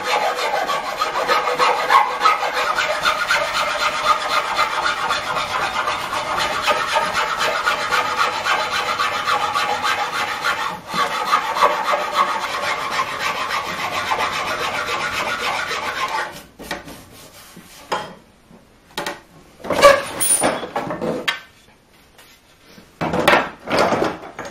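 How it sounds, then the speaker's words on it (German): Steel file rasping over a hazelwood flatbow with linen backing, continuous close scraping strokes for a long stretch, then breaking into separate short strokes with pauses, no talk. "Deshalb gehen wir noch mit der Feile drüber."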